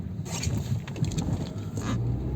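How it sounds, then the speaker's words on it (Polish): Honda CR-V on winter tyres accelerating hard on a snowy road, a steady, loud low engine roar with some wind noise across a short burst. "I gaz w podłogę."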